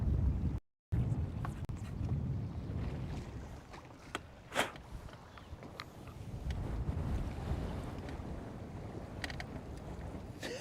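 Wind blowing across Lake Guntersville while fishing from a boat, a steady low rumble of gusts buffeting the microphone with occasional knocks and splashes, no talking.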